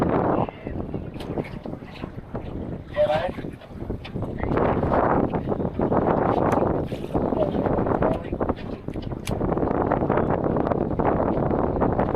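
Strong wind roars and buffets continuously across a fishing boat out on the water, a loud, rough rush of gusts close to the microphone throughout.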